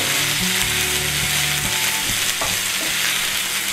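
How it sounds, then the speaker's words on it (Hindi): Ginger garlic paste frying in a pan, a loud, dense sizzle holding steady throughout with faint clicks of a spoon stirring, close up and without talk. "इसको 2 मिनट हम भूनते हैं"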